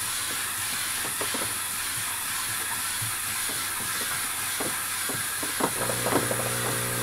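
Steam cleaner hissing steadily while a surface marked with magic marker is scrubbed hard, a continuous broadband rush with faint scrubbing knocks and small clatters throughout, close and fairly loud, no talking.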